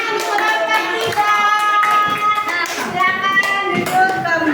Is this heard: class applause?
yes